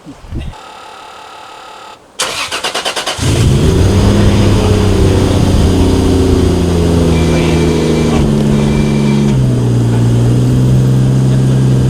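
A Toyota 2JZ engine with an AFM, tuned to run rich, starts after a brief cranking whir and settles into a loud, steady, close idle that holds on without stalling.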